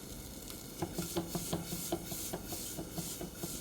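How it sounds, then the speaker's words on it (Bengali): Packaged popcorn pre-mixed with oil and salt begins popping in a hot pan, with a series of soft, irregular pops over a faint background sizzle. "বাজার থেকে সবসময় আমি এই ধরনের পপকর্ন নিয়ে আসি এই যে ফুটা শুরু হয়ে গিয়েছে"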